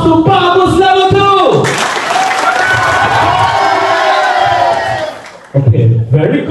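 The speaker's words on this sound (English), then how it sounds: "Let's give a round of applause" A seminar audience in a Nairobi hotel breaks into applause and cheering, a loud burst of clapping and whoops that swells after a voice and fades within a few seconds before talking resumes.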